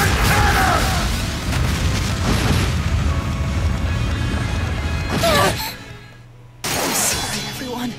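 A loud, dense burst of blasting and rumbling from a destruction cannon attack in The Legend of Heroes: Trails of Cold Steel, then a sudden drop to near quiet, followed by another sharp burst of effects.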